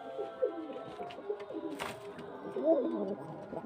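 Pigeons kept for sale at a house in Beldanga coo softly nearby, a few low rolling calls over a quiet background.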